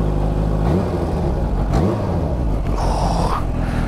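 A Kawasaki Ninja H2 motorcycle engine hums steadily while riding, its pitch sliding up and down as the rider shifts and eases the throttle, with a constant close rush of wind over it.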